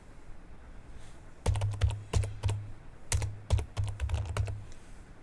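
Keys clatter on a computer keyboard as a Windows 11 command is entered, in quick close bursts of clicks separated by brief pauses, after a quiet opening second.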